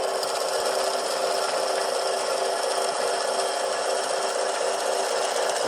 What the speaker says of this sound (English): we're going to turn the lathe, slow speed, and drill our first hole